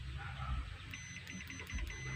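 A multimeter set to buzzer continuity mode, testing small SMD capacitors on a Bluetooth speaker board, gives a quick run of faint repeated beeps in the second half over low room noise.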